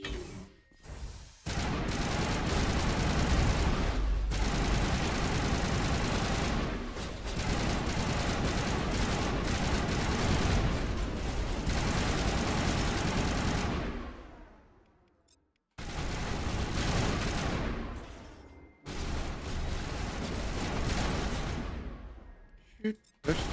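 Long stretches of heavy, rapid gunfire shooting drones in the video game Mass Effect, with explosive crashes, broken by a few short pauses.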